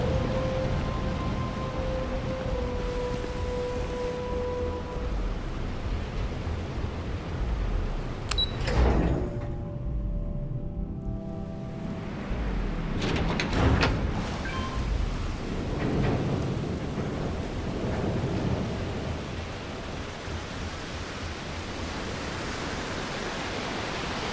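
Rain and thunder in the video game Starfield: a steady hiss of heavy rainfall runs throughout, broken by a loud, rumbling thunderclap about a third of the way in and a second crack a few seconds later.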